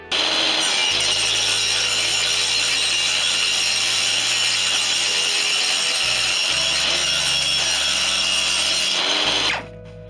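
A power saw trims thin wooden sheets for aircraft tail gussets on a kit plane build, a loud continuous whining cut with a low motor hum underneath and short breaks between passes, close and with no talk.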